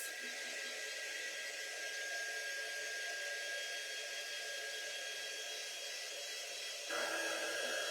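A hair dryer blows steadily close by, drying candy apple paint on a craft pig figure, a constant loud airy roar that shifts slightly in tone near the end, with no voices.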